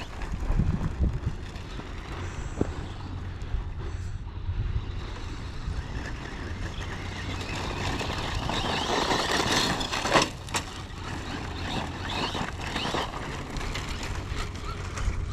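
A 2WD Traxxas Slash RC truck being bashed with a tire coming unglued from its bead-lock rim, its motor whine and rolling noise steady and moderately loud under wind buffeting, with a sharp clatter near the middle.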